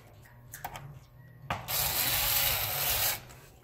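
A hand screwdriver drives small screws back into an HP 15.6-inch laptop chassis, giving a few close, sharp clicks and scrapes followed by a steady gritty rasp of turning, with no talking.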